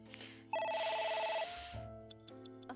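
A phone ringing in the video game AI: The Somnium Files, one bright electronic ring burst swelling over game music, then fading, followed by a few short tonal chimes.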